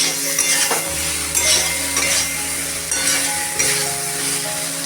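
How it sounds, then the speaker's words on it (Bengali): Pointed gourd and potato pieces sautéing in a pan with turmeric and ground coriander paste, a steady close sizzle with repeated stirring scrapes and light utensil clinks, no voices. "পটল আলু আর এই মশলাটা ভালো করে কষিয়ে নিয়ে"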